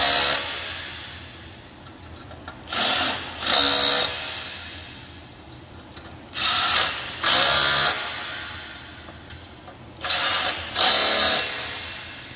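Bolts being tightened while assembling a Metal Valley 5x10 ft galvanized trailer kit: three separate bursts of ratcheting, each a pair of short, loud, close rasping runs with quiet pauses between, and no talking.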